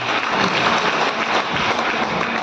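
An audience at a talk on direct selling breaks into steady, dense applause, a continuous wash of many hands clapping with no voices over it.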